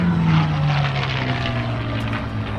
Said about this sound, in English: the P-51D Mustang